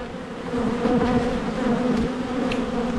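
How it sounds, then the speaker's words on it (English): Honeybees buzz loudly and continuously inside an opened Langstroth hive during an inspection, a dense close drone with no voices. "I've got half a cup of bees in there"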